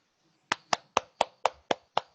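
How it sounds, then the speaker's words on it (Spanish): A group of people clap their hands in unison on command, seven sharp, evenly spaced claps about a quarter second apart, close and clear with no talking. "La primera orden es que van a tener que aplaudir."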